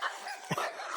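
A single short dog bark or yip, sharp and fairly close, stands out briefly against a steady outdoor background, with no talk during it.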